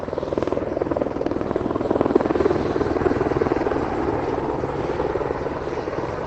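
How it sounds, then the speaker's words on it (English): A helicopter flies overhead near a beach in Paris, its steady rotor chop and engine drone loud and continuous throughout with no talk. "Oh, we got one helicopter flying."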